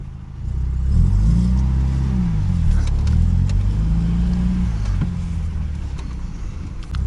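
A diesel engine in a K30 runs steadily with a deep, loud rumble and a slight rise and fall in revs, heard close up for several seconds without speech.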